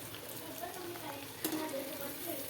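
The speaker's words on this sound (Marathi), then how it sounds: "तर फक्त तापलेल्या तेलात एकदा असे सोडायचे वर खाली हलवायचे आणि काढून घ्यायचे" Veg Manchurian balls frying in hot oil, a steady soft sizzle and bubbling with a faint clink of stirring.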